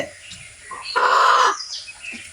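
A rooster on a desi chicken farm, newly brought hill breed, gives a short loud call peaking mid-clip, with faint bird chirps around it.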